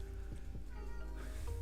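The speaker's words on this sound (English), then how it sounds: "And my cat has come to say hello." A pet cat meows softly a couple of times indoors, the short faint calls sitting over a low steady background hum.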